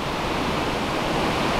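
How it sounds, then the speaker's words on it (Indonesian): Belawan waterfall pouring with a loud, constant broadband roar, close and unbroken from start to finish, with no voices. "Sekarang kami sedang berada di air terjun Belawan"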